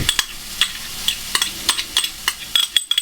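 Finely chopped garlic hitting a hot pan, a soft sizzle broken by repeated sharp clicks and scrapes of a utensil stirring against the metal, close and without talk.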